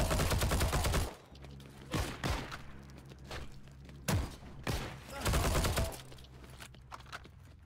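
STG 44 gunfire in Heroes & Generals, a World War II shooter: several loud, close bursts of automatic fire, each one short and sharp, separated by brief pauses, with no voices over them.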